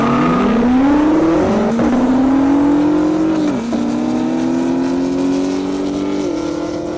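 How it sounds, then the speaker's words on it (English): Chevrolet Camaro ZL1 drag racing down an airstrip at a half-mile event, its engine roaring loud and close as it climbs through several gear shifts, each marked by a brief dip and rise in pitch. "Pretty good drag race right there, the ZL1."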